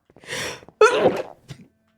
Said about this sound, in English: Big sneezing.